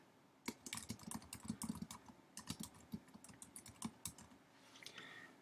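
Quiet, close clicking of keys on a computer keyboard as a title is typed, in irregular quick bursts with short pauses, no voices.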